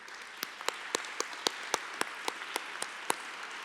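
At a Children's Tumor Foundation national gala speech, a few audience members clap in sharp, evenly spaced single claps over a quiet room hum, a sparse, steady rhythm rather than full applause.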